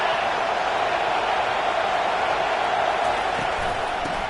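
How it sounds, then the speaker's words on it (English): Thousands of fans in a football stadium keep up a loud, sustained roar ahead of a second-down play, a broad unbroken wall of crowd noise holding steady throughout. "this crowd is turning it up a notch"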